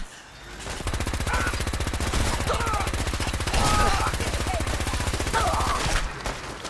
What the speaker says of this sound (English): there's always going to be people shooting